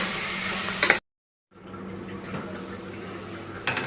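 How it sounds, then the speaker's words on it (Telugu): Paneer pieces fry in masala in a pan, a steady sizzle with stirring and pot clatter that cuts out briefly, then returns softer and continues to the end. "పన్నీర్ ముక్కలు ఈ విధంగా వేపుకోవాలండి."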